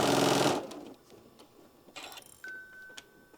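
A sewing machine stitching a drawstring bag runs in a fast, loud burst for half a second, then stops, followed by faint clicks and small mechanical sounds with a brief tone, no speech.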